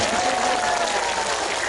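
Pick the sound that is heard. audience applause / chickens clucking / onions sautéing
audience applause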